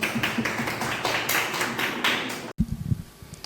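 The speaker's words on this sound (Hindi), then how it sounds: "जोर से ताली बजा के परमेश्वर के नाम को महिमा करेंगे." A church congregation at an annual convention claps loudly to welcome a speaker: dense, uneven hand clapping from many people for about two and a half seconds, cutting off abruptly, followed by a few faint scattered taps.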